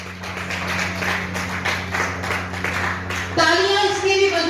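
Applause at a political meeting of a Narendra Modi support forum in Dehradun, a crowd clapping steadily under a steady hum before a voice comes in at the end.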